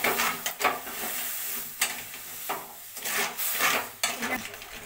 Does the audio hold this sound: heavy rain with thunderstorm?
no